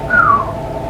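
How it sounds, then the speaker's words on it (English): A single short whistle slides downward in pitch for a fraction of a second over a quiet, low background hum. "I can't talk without whistling."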